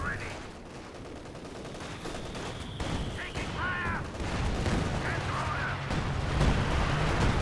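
A Company of Heroes 2 anti-tank gun fires amid a busy war-game battle, with sharp shots and scattered gunfire over a constant rumbling background while a commentator talks.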